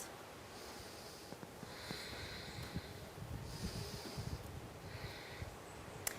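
Slow, deliberate breaths drawn in and out through the nose during a held yoga pose, with airy hissing swells at an even, unhurried pace, close and soft against a quiet room, with no talking.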